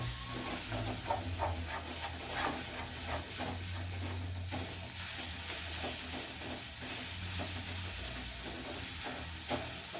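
Small shallot-type onions, finely ground, frying and being stirred in a pan for Chettinad-style onion thokku: a steady sizzle and hiss with repeated scraping strokes of the spoon throughout, close and continuous, with no talking.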